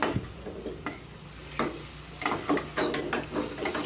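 Boiled dried shrimp stirred into a spicy eggplant curry over low heat, with a soft background sizzle and several scraping stirs of a spoon against the pan, close and moderately quiet.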